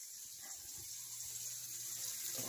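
Tap water running into a Brita water filter pitcher in a kitchen sink, a faint steady hiss of flowing water with no pauses, heard alone without talking.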